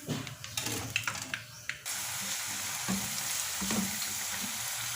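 Onion rings deep frying in hot oil, first crackling with some scraping and handling sounds, then turning into a steady, dense sizzle that fills the rest of the clip, close with no talking.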